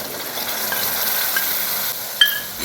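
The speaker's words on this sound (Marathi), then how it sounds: "1-2 मिनिटं आपल्याला चालवत फ्राय करून घ्यायचं आहे।" Okra with yogurt and spices being stir-fried in a pan, a soft continuous sizzle with light stirring scrapes and one sharper clink near the end.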